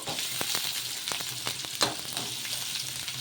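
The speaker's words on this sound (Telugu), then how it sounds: "జీలకర్ర ఆవాలు వేసుకున్న తర్వాత ఇందులోకే కొంచెం చిన్నగా కట్ చేసి పెట్టుకున్న ఆనియన్స్ ముక్కలు" Finely cut onions fry in oil with cumin and mustard seeds, a continuous close sizzle broken by several scraping stirs and a sharp clink of the spatula against the pan, with no voices.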